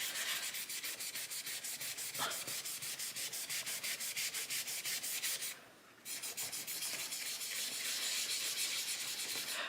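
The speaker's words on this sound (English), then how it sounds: "I'm also almost rubbing out that darker bit there." Eraser rubbing out pencil shading on planner paper, a steady rapid back-and-forth scrubbing close up with a short pause near the six-second mark, no voices.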